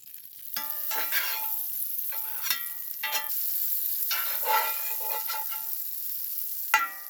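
Food sears in a seasoned cast iron pan, giving a close, steady sizzle with crackling pops and sputters that rise and fall throughout.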